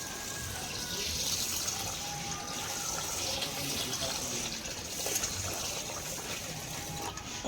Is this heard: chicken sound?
no